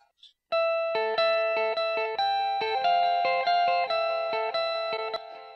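Clean electric guitar line of steady picked notes through a heavily boosted delay send, so the notes ring out longer with dense echoing tails; a short sound comes first, then the phrase plays alone for several seconds.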